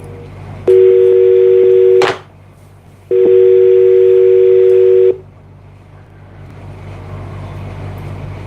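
Telephone keypad tones sound as a number is dialed, two long steady beeps separated by a click and pause, with a low background hum and faint noise trailing off afterward.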